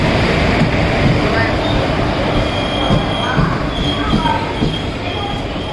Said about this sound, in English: So our train is entering the platform, and And this is an electric one, electric locomotive, WAP4